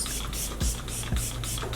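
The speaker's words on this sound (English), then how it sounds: "I'm going to spritz it" Several quick hissing spritzes from a face mist spray bottle, repeated in a steady rhythm about twice a second over a low background hum.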